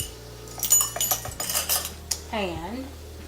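A metal teaspoon clinks against dishes while adding matcha powder, several close, bright taps and scrapes in quick succession, with a low hum underneath and no talking.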